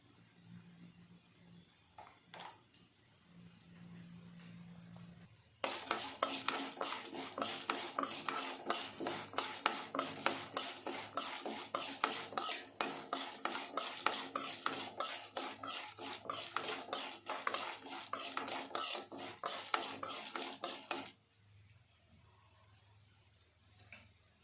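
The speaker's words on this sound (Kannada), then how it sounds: "ಮೆಂತ್ಯ, ಕಡಲೆಬೇಳೆ, ಉದ್ದಿನಬೇಳೆ ಸ್ವಲ್ಪ ಫ್ರೈ ಆದಮೇಲೆ ನಾವು ತೆಗೆದುಕೊಂಡಿರೋ ಚಕ್ಕೆ, ಸ್ವಲ್ಪ ಲವಂಗ ಹಾಕಿ ಫ್ರೈ ಮಾಡ್ಕೊಬೇಕಾಗುತ್ತೆ." Fenugreek, chana dal, urad dal, cinnamon and cloves are fried and stirred in a pan, giving a rapid, continuous scraping and rattling of spoon on metal for about fifteen seconds, between quieter stretches with a low hum.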